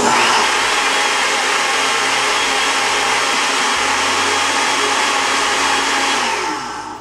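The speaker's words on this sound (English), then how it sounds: "So I've got like a couple handfuls, I guess you'd say, of spinach in there, and I'm going to blend it." A Vitamix blender purees a couple of handfuls of spinach for a green smoothie, giving a loud, steady high-speed roar that holds throughout and tapers off at the very end.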